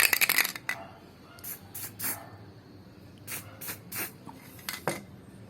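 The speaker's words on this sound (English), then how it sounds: "So what I'm gonna do is I'm gonna spray them one by one." Short hissing bursts from a spray can repainting the wiper cowl of a Honda Civic EG hatch, several brief close spurts spaced irregularly with quiet pauses between.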